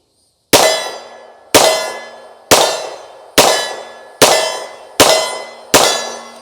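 A Tisas M1911A1 Government .45 ACP pistol fires a magazine of US GI rounds at a range: seven loud, sharp shots about a second apart, each ringing out and fading before the next, with no talking.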